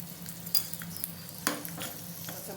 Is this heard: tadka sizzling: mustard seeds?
yes